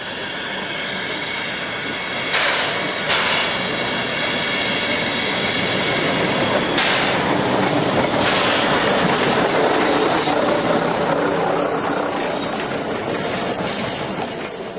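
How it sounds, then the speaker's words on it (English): A Heisler steam locomotive rolls steadily downhill through big trees with a continuous rumbling roar and faint rhythmic clatter of wheels, with a few brief hissing bursts. "The train rolls down grade through big trees."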